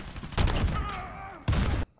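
Gunfire from the Modern Warfare beta video game: a loud burst of rapid shots, a stretch of ringing tones, then another sharp volley that cuts off abruptly.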